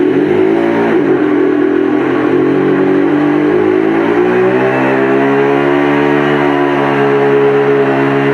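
A hybrid car pulling away, its engine droning with a steady harmonic tone that climbs gradually in pitch as speed builds, loud and close throughout with no talk.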